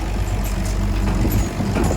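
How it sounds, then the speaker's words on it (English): A farm wagon ride rolls along with a steady low engine rumble from the tractor or truck pulling it, continuous and fairly loud, with rattling and road noise and no talking. "Let's get on the wagon and go for a ride and see what we can find."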